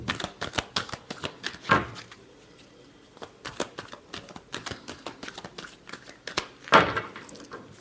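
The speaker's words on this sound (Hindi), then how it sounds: "Last shuffle." Tarot cards are shuffled by hand in a quiet room, giving a run of quick, crisp riffling bursts and flicks at an uneven rhythm, with two louder riffles standing out among the softer taps, and no talking.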